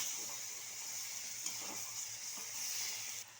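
Potatoes and soybean chunks fry with spice paste in a pan, giving a steady close hiss and sizzle with faint stirring scrapes throughout.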